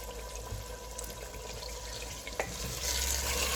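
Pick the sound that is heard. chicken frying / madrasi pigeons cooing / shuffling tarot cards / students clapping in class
chicken frying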